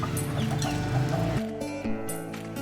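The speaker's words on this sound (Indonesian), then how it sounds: "ayamnya banyak sekali" A large flock of chickens clucks steadily while being fed on a farm, a dense, busy chorus of overlapping calls that stays loud throughout, with no talk.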